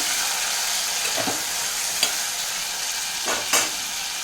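Onions and chopped tomatoes frying in a pan for an eggplant curry hiss steadily at close range, while a few brief spoon scrapes and clinks of stirring rise above the sizzle.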